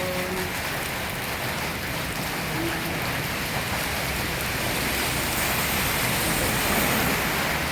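Heavy rain pours steadily in a dense, continuous hiss, loud and unbroken from start to finish.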